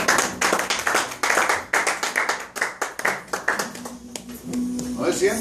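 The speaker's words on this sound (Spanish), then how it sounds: "Denle un aplauso al Señor." A church congregation claps together in a loud, close burst of rhythmic applause that fades toward the end as voices come in.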